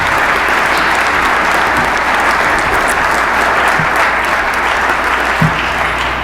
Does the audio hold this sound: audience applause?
yes